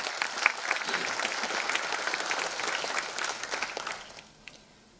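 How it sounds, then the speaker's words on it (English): An audience at a university event at Graphic Era applauds in a thick, even round of clapping that fades out in the final second. "A huge round of applause for him as well"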